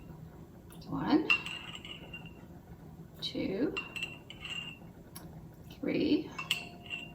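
Metal measuring spoons clink three separate times against a bowl or jar as calcium water goes into sugar-free peach preserves made with allulose. Each clink is short and bright and lands about every two and a half seconds, close by, with a voice counting in between.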